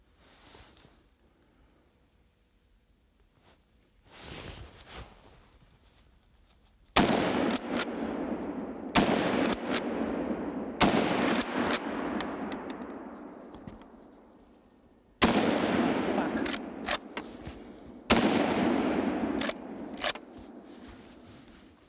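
Several loud rifle shots ring out at a driven wild boar hunt, sharp cracks with long rolling echoes spaced a few seconds apart, the last two fired in quick succession, after a quieter stretch of outdoor rustling.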